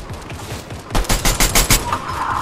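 Gunfire in the Fortnite video game, a rapid burst of about six loud, close shots after a quieter stretch of distant crackling, with no talking over it.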